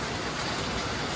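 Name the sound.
rain falling outside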